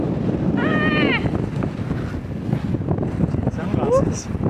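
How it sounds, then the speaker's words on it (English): Strong Meltemi wind blows over the microphone on Santorini, a loud, gusty rush throughout, with a person exclaiming under the buffeting. "It is very, very windy."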